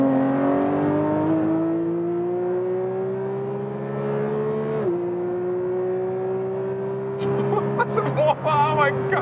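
A Porsche 911 GT3 Touring 992 accelerating hard from 100 to 200, its engine note climbing steadily in a long rising pull before a gear change, heard from inside the car, with excited voices near the end.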